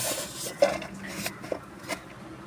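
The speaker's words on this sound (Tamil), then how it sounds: "இது அப்படியே வந்து மிக்ஸ் பண்ணி கலவை மாதிரி கலக்கிக்கலாங்க" Cauliflower is mixed with ginger garlic paste and lemon in a bowl, giving a few soft close clinks and rubbing scrapes of utensil against the dish over a quiet background, with no talk.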